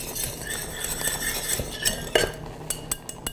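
A starchy puree is stirred in a pot with a metal utensil, giving soft scraping and scattered clinks against the pot, denser toward the end, close and fairly quiet with no talking.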